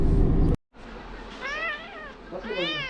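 Very young kittens with eyes not yet open mew in thin, wavering cries, two short bursts close by after a brief loud rustle.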